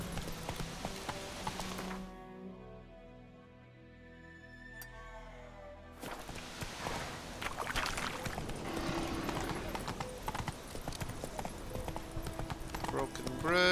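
A horse gallops in The Witcher 3, steady hoofbeats under other game noise that drop away into a brief hush before the pounding gallop resumes, close and strong.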